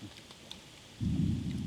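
Rain patters quietly, then a deep rumble of thunder swells in and rolls on loudly through the rest.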